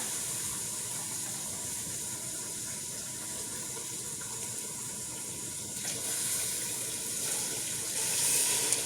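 Steady hiss of water running and filling into a hot pan, with a brighter sizzling burst near the end, heard alone without voices.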